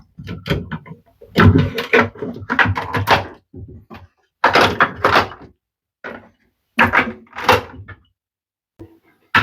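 The plastic lid of a JBL Cristal Profi e1502 external aquarium filter is handled and closed. Several loud, close clunks and rattles come in separated bursts, with silent gaps between them.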